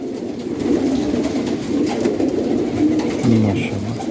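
Pigeons in a breeding cage, close, repeated low throaty coos in soft rolling phrases, with a distant voice murmuring faintly in the background.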